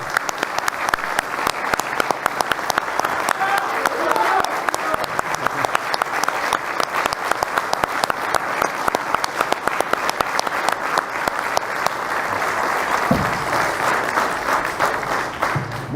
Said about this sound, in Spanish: Muy bien, y nosotros lo vamos a aplaudir.